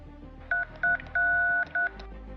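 A telephone number dialed on a keypad: four crisp touch-tone beeps at uneven intervals, the third held noticeably longer than the rest, loud and close with no talking.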